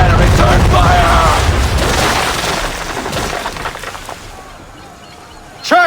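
Ship cannons booming in a naval battle in Assassin's Creed III, a heavy loud blast that rumbles and fades over several seconds, then a sharp new burst at the end.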